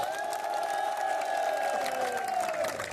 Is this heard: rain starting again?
no